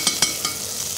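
Lentils tipped into a hot pan with rosemary, a bright continuous sizzle with a few quick scraping stirs at the start, close and fairly loud.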